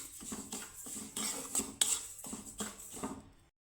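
Daliya (broken wheat) stirred and lightly fried in a pan, giving a series of close, repeated spoon scrapes and clinks against the metal with a soft sizzle underneath, fairly quiet and steady throughout.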